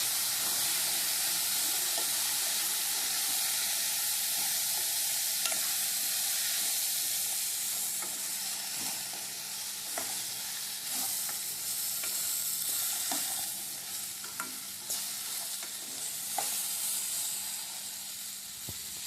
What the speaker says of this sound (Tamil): கொத்தவரங்காய் பொரியல் நிறையா போட்டு இது வதக்கலாம்.